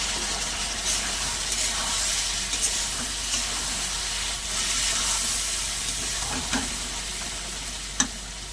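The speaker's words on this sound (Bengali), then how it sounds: "সামান্য জল দেবো দিয়ে একটু ভালো করে কষিয়ে নেব" Vegetables, taro stolons (kochur loti) with potato, stirred and sautéed in a pan with a little water: steady close sizzle and hiss with intermittent scraping stir strokes, no talking.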